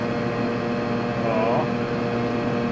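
A Piaggio Ape 50 three-wheeler driven at full throttle, its small engine giving a steady, buzzing drone with a strained, even pitch throughout.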